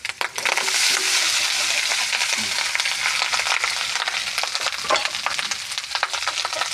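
Fried corn rice is stirred in a hot pan, a loud continuous crackling sizzle close by, broken by scraping and crunching strokes of the spatula at an uneven pace.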